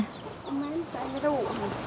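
A chicken clucks close by in a series of short rising and falling calls, with softer bird chirps mixed in behind.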